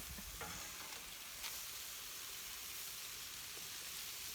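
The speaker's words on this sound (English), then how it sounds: "Ooh, sizzle." Vegetables sizzle on a hot grill, a steady close hiss of frying with a few faint crackles and scrapes, fairly quiet and continuous, with no talk.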